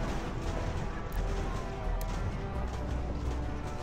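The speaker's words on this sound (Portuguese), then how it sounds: "Um barulhinho de tiro." Battle in the game Ultimate General: American Revolution, with a continuous dense wash of distant musket fire and crackling volleys, steady and moderately loud, with no talk over it.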